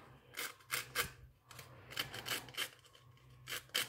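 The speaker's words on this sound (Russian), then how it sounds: "Для простоты обработки взял наждачку." Sandpaper is rubbed back and forth along the edges of a pop-it toy, making quiet, close, rhythmic scratchy strokes about twice per second with short pauses between them.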